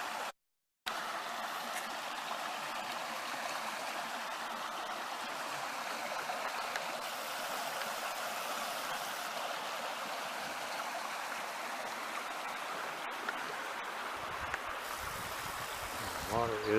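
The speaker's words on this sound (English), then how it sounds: "The water is flowing." Continuous broadband rush of a flowing stream, steady and fairly close throughout after a brief silent start, with no talking.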